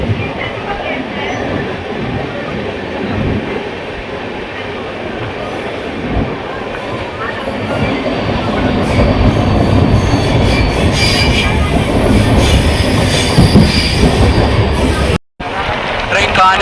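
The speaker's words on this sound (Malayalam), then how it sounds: "ട്രെയിൻ കാഞ്ഞങ്ങാട് റെയിൽവേ സ്റ്റേഷനിലേക്ക് അടുത്തുകൊണ്ടിരിക്കുകയാണ്." Superfast express train 22659, a sleeper service, rumbles loudly and steadily as it approaches Kanhangad railway station, with wheel noise and rattling carriages throughout and a brief dropout near the end.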